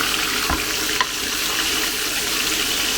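Butter sizzles and spits steadily in a hot pan while being spooned over a Barnsley chop, a continuous close frying hiss with a couple of brief clinks, no talking.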